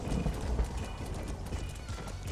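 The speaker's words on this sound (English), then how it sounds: "Here, Chris, you can take my horse." A horse gallops in a video game, its hoofbeats a steady, rapid clip-clop that runs throughout at a moderate, even level, with occasional snorts and no clear talk.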